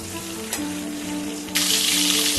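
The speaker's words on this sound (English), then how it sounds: "The aim is not to fry the eggs very deeply, but just lightly fry them." Eggs with gashes cut into them fry lightly in a pan, giving a close, even sizzle that swells louder in the final second over a faint steady hum.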